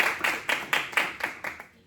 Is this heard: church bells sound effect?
no